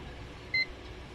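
A multimeter's continuity buzzer on a tester probing a Samsung 43-inch LED TV with a no-power fault gives one short, clean beep in the middle of a quiet workbench hush.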